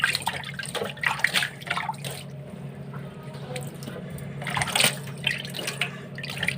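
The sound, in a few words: washing the sink with leftover water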